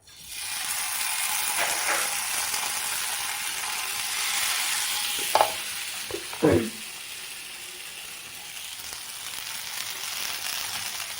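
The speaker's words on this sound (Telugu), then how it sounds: "ఇప్పుడు తవా ఫ్రై వేస్తున్నాను వేడివేడిగా." Fish fries on a hot tawa with a steady, moderately loud hiss of oil, briefly interrupted by a few sharp clacks and scrapes as pieces are placed or turned.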